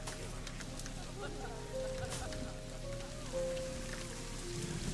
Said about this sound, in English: And here comes the rain.